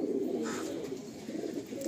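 Andhra high-flying pigeons in a Kolkata loft coo in a low, steady murmur that runs through the whole short stretch at moderate loudness, with no voices over it.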